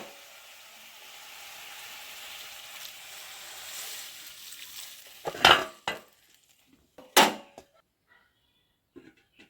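A lid clatters onto a pan of green tomato chutney cooking on the stove, two sharp metallic knocks after a soft simmering hiss, then quiet.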